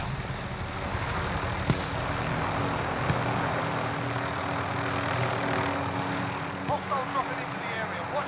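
A helicopter flies close by in the video game Call of Duty Warzone, a steady droning engine and rotor noise that stays loud throughout, with players talking over it.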